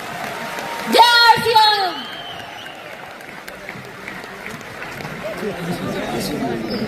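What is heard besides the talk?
audience applause at a business event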